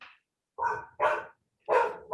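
A dog barks several times in short, separate bursts, moderately loud but somewhat distant, with quiet pauses between barks.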